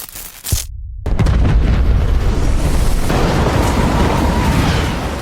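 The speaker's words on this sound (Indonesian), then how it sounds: "bom nuklir itu pun meledak dan menghancurkan seluruh tempat itu" A sharp burst is followed by a huge, sustained rumbling roar of a nuclear bomb explosion in a film that fills the space and slowly fades.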